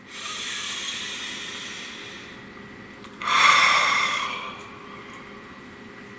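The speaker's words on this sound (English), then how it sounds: "Nice deep breath." A slow, deep breath, with a long airy inhale followed by a louder, breathy exhale lasting about a second, close to the microphone.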